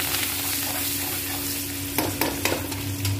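Potato-fenugreek curry with turmeric and green chillies stirred in a hot pan, a steady soft sizzle broken by a few sharp scraping clacks of the spoon near the end.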